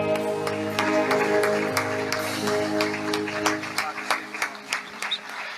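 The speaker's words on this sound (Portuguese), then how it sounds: "Por isso nós te aplaudimos," A church congregation at a family worship service applauds over sustained keyboard tones, and the scattered claps grow sharper and more distinct toward the end.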